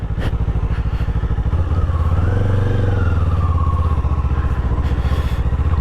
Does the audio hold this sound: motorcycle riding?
yes